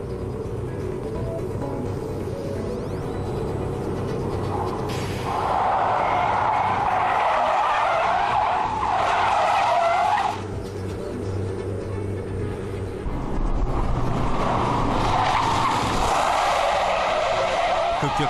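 Car tires squeal and skid repeatedly during an abrupt left-right steering swerve test on a test track, long sustained screeches in several bursts over steady engine and road noise, fairly distant.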